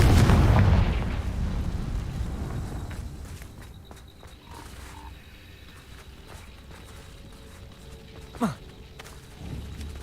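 Fiery blasting-spell explosions from the video game Hogwarts Legacy: a loud burst at the start fades into a low rumble, then a sharp whooshing blast near the end and a smaller thud after, with no talking.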